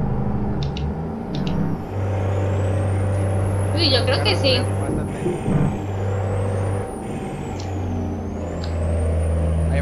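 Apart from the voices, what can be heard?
trucks and air brakes in American Truck Simulator video game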